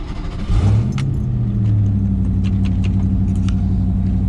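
A Ford Thunderbird engine rumbles and rises as the car pulls away, loud and close, with keys jangling just before and a steady low drone following, with no voices.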